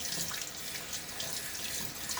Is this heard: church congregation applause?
no